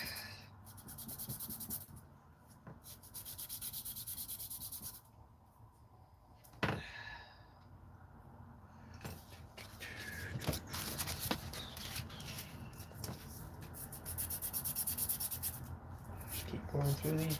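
Wood being hand-sanded through progressively finer sandpaper grits in a workshop, a steady scratchy rubbing that continues throughout, with brief pauses and a few knocks.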